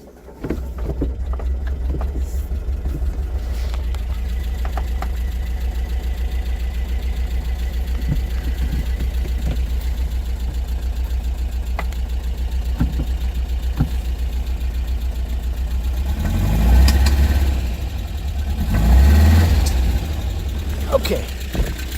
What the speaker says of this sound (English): I'm gonna start the car up here